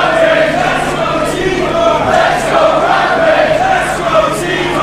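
Wrestling crowd at a live match between Rampage Brown and Tyson T-Bone roars in a continuous loud, dense wash of cheering and shouting, steady throughout with surges of yelling.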